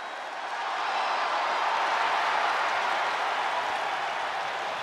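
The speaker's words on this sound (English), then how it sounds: "Listen to this ovation." In the WWE 2K23 wrestling video game, a large crowd applauds and cheers in a dense, sustained roar that swells early and holds steady throughout.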